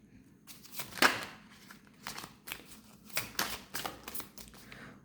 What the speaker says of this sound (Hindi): पहले मैं कार्ड्स निकाल दूँ